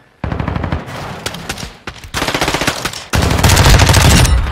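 Automatic gunfire in the video game Modern Warfare 2, loud rapid bursts of shots close up, with brief pauses between bursts and a longer sustained burst at the end, no talking.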